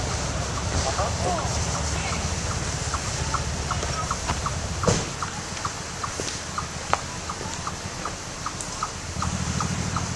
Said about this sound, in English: Weird bird.